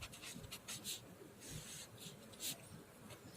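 Pencil or pen on paper during a Hindi class 8 maths lesson, faint scratchy strokes in short irregular bursts, quiet and close with no talking.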